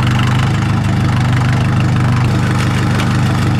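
A tractor's diesel engine rumbles loud and steady nearby as the tractor pushes against a leaning cabin building, chugging with a rhythmic low throb throughout.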